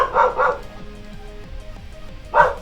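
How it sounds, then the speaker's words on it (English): A dog barks twice at the start and again near the end, close and loud, with quieter tones from a card game on a computer sounding between the barks. "I'm sorry for the dog barking."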